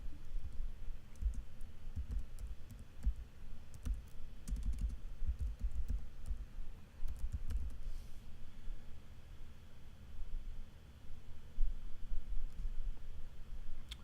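Fingers tap on a computer keyboard while text goes into a document, in quiet bursts of clicking keystrokes with short pauses, faint against a low room hum.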